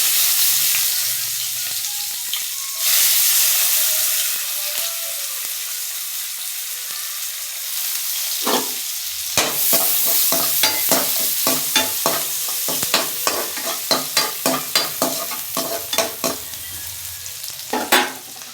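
Onions sizzle in hot oil for dried anchovy rice, starting as a steady hiss, then broken by a long run of sharp scraping strokes as a spoon stirs the pan, close and fairly loud.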